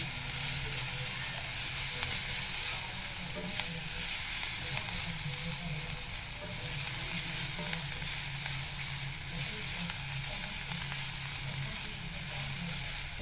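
Homemade masala with a little chili powder fries in a pan for bread upma, a loud continuous sizzle and hiss with occasional stirring scrapes, steady from start to finish, with no voices.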